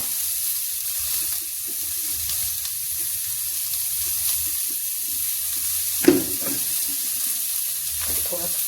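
Spices sizzle in a pan with a steady hiss and soft crackle. A single sharp clink of a utensil comes about two-thirds through, followed by faint stirring.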